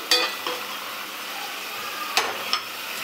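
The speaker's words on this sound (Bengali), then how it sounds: "ঝোল ফুটে উঠেছে" Fish curry gravy for sweet-and-sour katla bubbles in a pan with a steady hissing simmer, a few sharp clinks of a utensil against the pan near the start and toward the end; no talking.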